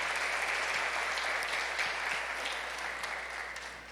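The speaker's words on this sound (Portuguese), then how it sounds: "Palmas para Jesus," Congregation in a church temple service applauding, a dense, continuous wash of clapping heard from a distance, slowly fading toward the end.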